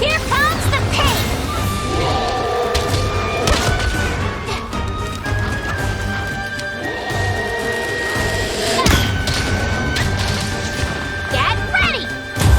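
A Herculean Draw bow attack from Monster Hunter Rise in combat: dense game effects with impacts, whooshes and sustained tonal layers, heavy and continuous at close range, while a voice talks over part of it.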